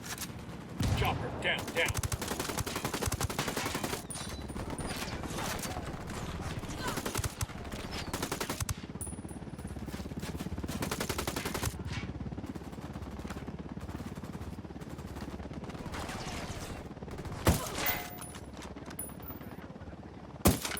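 Intense gunfire rattles through a firefight in the video game Ghost Recon Wildlands: sustained bursts and volleys with loud, close shots, and a voice calling out briefly over the shooting.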